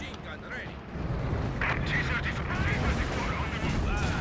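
Machine gun and artillery fire in the video game Company of Heroes 2: a dense, continuous wash of battle noise with overlapping bursts and booms, loud and steady throughout.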